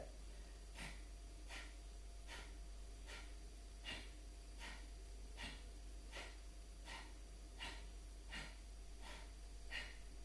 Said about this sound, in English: So we're going to exhale forcibly through the nose.